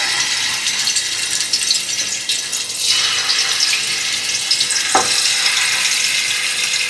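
Bone-in chicken tikka pieces fry in hot oil in a large pan, a steady dense sizzle throughout with a brief clink of a utensil against the pan midway.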